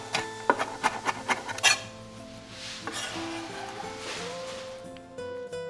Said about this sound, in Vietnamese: Băm nhỏ khoảng 4 đến 5 tép tỏi để làm sốt ha.